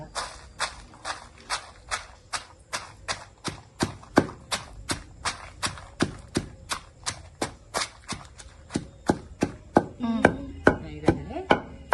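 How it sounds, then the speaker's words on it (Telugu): Tomatoes and dry red chilies pounded into chutney in a stone mortar: steady, evenly spaced heavy thuds, about two or three per second, close and clear, with a faster scraping flurry near the end. "ఇలా దంచుకుంటే చక్కగా కూరగాయలు అంతా నలిగిపోతాయి"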